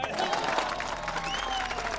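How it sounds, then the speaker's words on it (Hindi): People in a crowd clap at a speech, a brief stretch of scattered, moderately quiet applause with murmuring voices mixed in. "ये ताली बजा रहे हैं लोग।"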